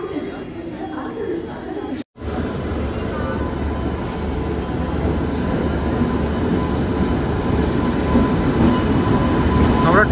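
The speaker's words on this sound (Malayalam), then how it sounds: "നമ്മുടെ ട്രെയിൻ എത്തി കേട്ടോ." The Netravathi Express arrives at a station platform, its heavy rolling rumble and clattering wagons building steadily louder and closer, with voices audible around it.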